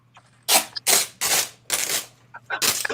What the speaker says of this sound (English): Sorry for the tape noise.